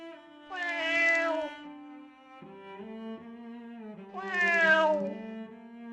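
A kitten meows twice, clear and close, with a few seconds between the calls, over steady sustained background tones.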